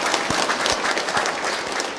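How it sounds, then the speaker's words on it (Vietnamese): Steady, dense applause from a church congregation after Mass, with a few faint low thumps scattered through the clapping. "Chúng ta nổ tràng pháo tay để cảm ơn nhau"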